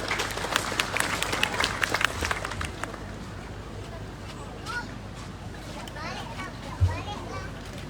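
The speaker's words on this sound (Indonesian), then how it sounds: "Tepuk tangan buat beliau." An audience at an anniversary ceremony for Keerom Regency applauds briefly, dense clapping for about three seconds that fades into crowd murmur, children's voices and chatter.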